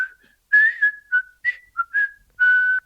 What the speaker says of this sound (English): I think I was whistling a melody that I was hearing.